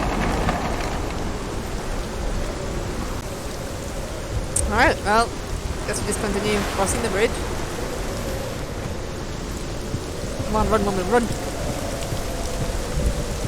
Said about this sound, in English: And it's raining, you need to get inside.